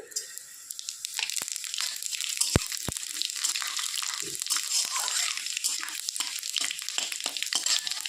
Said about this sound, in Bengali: এইবার দিয়ে দিব হচ্ছে পাঁচফোড়ন